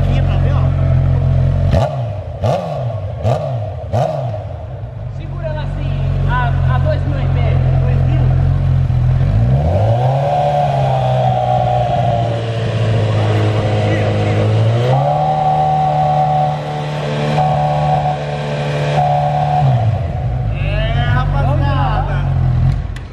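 A Honda CB 1000 motorcycle with a GRS Racing titanium exhaust blips its throttle in several sharp revs, then climbs and holds through long loud revs before dropping back, close up and dominant.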